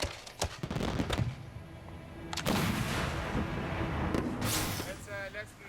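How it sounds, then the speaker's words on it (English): Fireworks shells fire from high-density plastic mortar tubes in angled racks at a public display, giving several sharp, loud booms and bursts with a rushing crackle between them and faint voices in the background. "Each mortar shoots a single fireworks shell up into the sky."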